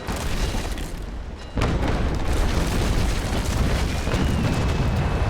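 Heavy naval cannon broadside from a first-rate Victory ship of the line in the Naval Action sailing game, a sudden loud boom that then rolls on as a dense, sustained thunder of gunfire, close and filling the whole stretch.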